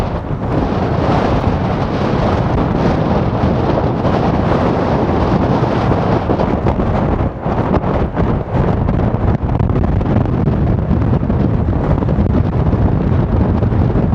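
Strong, constant wind on a hilltop roars and buffets the microphone for the whole stretch, a loud rumbling rush with no voices.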